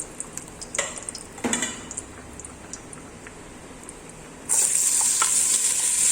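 Chopped onion added to a hot pan for dobradinha tripe stew: a few light clatters and stirring taps, then a sudden loud, bright sizzle bursts in near the end and keeps hissing.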